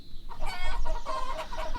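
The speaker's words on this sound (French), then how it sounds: "Mais les poules affolées firent tant de bruit que Constant sortit de la ferme" Panicked hens cluck loudly and rapidly in a close, agitated burst of overlapping squawks, with no talk over them.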